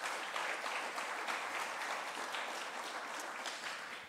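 An audience at a conference talk on AI and energy applauds the prefect of the Alpes-Maritimes, sustained even clapping from a large crowd heard at moderate distance without a break.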